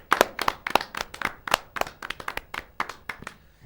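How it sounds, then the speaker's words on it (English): A small group clapping by hand, about a dozen sharp, uneven claps in a few seconds, close and fairly loud with no voices. "can I request my co-presenter to give a round of applause"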